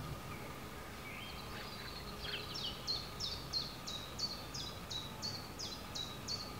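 A chiffchaff warbler sings from a tree, a clear run of about a dozen evenly spaced, high two-pitch notes, moderately near over faint background hiss.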